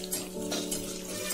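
Ginger and cashews fry in a pan for millet pongal, giving a soft, steady sizzle with light scraping of a spoon stirring against the metal.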